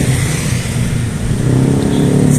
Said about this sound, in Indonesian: Banyak kendaraan yang melintas.